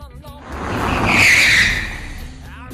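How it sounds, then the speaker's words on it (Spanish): A car braking hard with ABS: a tire squeal rises over about a second, peaks as a loud, close screech, then fades out, with road and engine rumble underneath. "Primero, veamos cómo actúa el vehículo con ABS."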